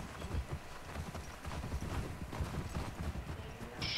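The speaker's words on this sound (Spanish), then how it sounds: "Caballo" In The Last of Us Part II, a horse's hooves clip-clop on snowy ground in a steady walking rhythm, moderately close and continuous, with soft game ambience underneath.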